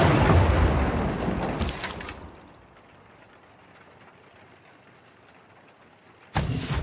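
A couple of shots from units in the strategy game Civilization 6, a loud rumbling impact fading over two seconds, a quiet gap, then a sharp burst at the end, with no talking.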